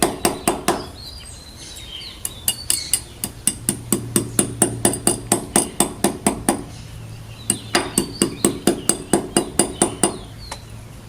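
A hammer strikes a protruding bolt again and again, expanding it, while a sun and rain awning is fitted to a house front, making sharp, close metallic blows in quick rhythmic bursts separated by short pauses.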